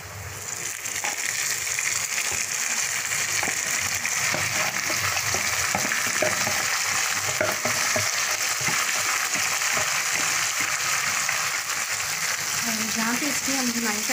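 Marinated chicken goes into a pan of golden fried onions for biryani, raising a loud, steady sizzle and crackle of frying that continues throughout, with faint kitchen clatter underneath.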